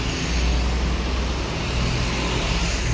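An ABG medium tour bus passes close by with a loud, steady engine roar and broadband road noise throughout, with no voices.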